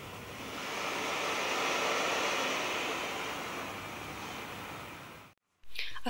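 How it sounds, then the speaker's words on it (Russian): Recorded sea surf rolls in as a broad, steady wash of noise that swells and slowly fades, then drops out abruptly before a short burst of another sound at the end. "вот 20 минут на море, с чайками, со всем вот шумом моря"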